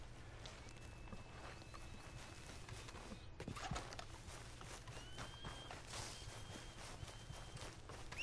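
Horse hooves clip-clopping in Red Dead Redemption 2, a steady walking rhythm under a constant low ambient hum, fairly faint.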